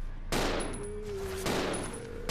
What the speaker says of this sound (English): Stop going for body shots, Billy. Just shoot them in the head.